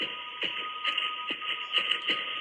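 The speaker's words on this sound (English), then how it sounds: "I heard footsteps coming down the hall again" Footsteps come down a hall as a horror story sound effect, a slow run of soft thuds and shuffles under a constant high droning tone.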